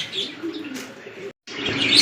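Lahori pigeons at a fancy pigeon market give soft low cooing and chirps through most of the stretch, briefly dropping out before resuming, with busy bird background noise around them.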